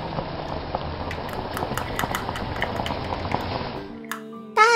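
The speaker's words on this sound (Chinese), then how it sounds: "接着再来煮一个水煮蛋。" Bubbling from a toy kitchen stove playing a boiling sound effect while an egg is pretend-cooked, a steady simmering hiss for about four seconds before it cuts off to a few electronic beeps.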